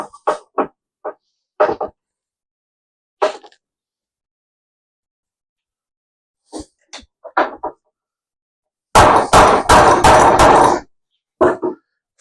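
Sharp, separate hammer blows knock wooden furniture parts together during a table build, scattered in short bursts with pauses, then a denser run of strikes, all close and loud with no speech.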